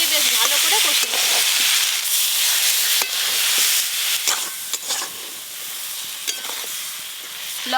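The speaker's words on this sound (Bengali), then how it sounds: "ওলের সঙ্গে মশলা দিয়ে বেশ ভালো করে কষে নেব।" Elephant foot yam frying in a pan with mustard paste, dried chili paste and turmeric: a loud, continuous close sizzle broken by sharp clicks and scrapes of a stirring spoon.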